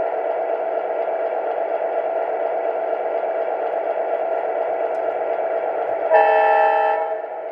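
A Rail King MP15AC switcher locomotive, an O-gauge model of a Lake State Railway unit, hums steadily with engine sound before giving one short, loud, chord-like horn blast near the end.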